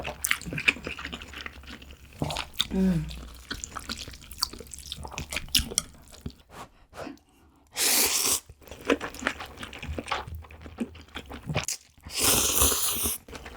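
Close-up eating of white seafood jjamppong ramyun with bean sprouts, shrimp, chives and mushrooms: loud noodle slurps in two long bursts plus wet chewing and small clinks, with no talking.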